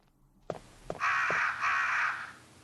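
Crows cawing in the PS1/Saturn game Resident Evil, a couple of sharp clicks followed by two long harsh caws in a row, fairly loud and close with nothing else over them.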